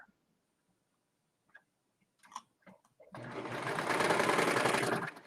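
A sewing machine runs steadily through four layers of thick cardigan cuff fabric, a loud continuous whirring stitch lasting about two seconds after a few quiet clicks and taps.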